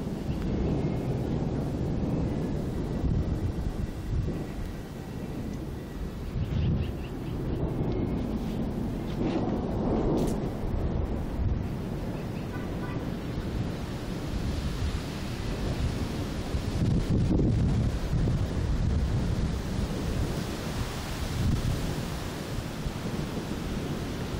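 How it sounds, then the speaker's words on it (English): Low rolling thunder from an approaching storm in Calgary rumbles on continuously through the whole stretch, swelling and fading, with steady wind noise over the microphone. "We got a storm coming in and the thunder just keeps rolling."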